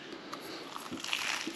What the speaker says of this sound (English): Oh, that's nice and crunchy pastry soundings.